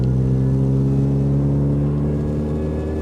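A modified Mini R53 engine growls steadily while driving, a deep, constant low-pitched rumble with strong harmonic drone heard close from inside the car, no voices.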